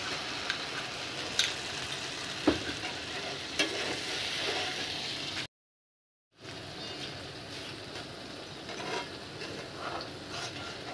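Hilsa fish masala sizzles and fries steadily in a pan over medium heat while a spatula stirs it with occasional scraping clicks; the sound cuts out for a moment before the frying resumes.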